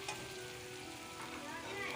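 Whole spices frying in hot oil for chana pulao, a steady soft sizzle with faint crackles, heard alone at low level.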